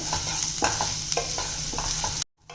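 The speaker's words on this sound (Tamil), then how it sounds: "கொஞ்சம் வெங்காயத்தை கலர் மாறுற அளவுக்கு வதக்கிட்டு இதை தனியாக வச்சிடலாம்." Finely chopped shallots sautéing in a pan for a lunch box dish, a close, continuous sizzle with a regular rhythm of spatula scrapes, then a sudden short drop to near silence at the end.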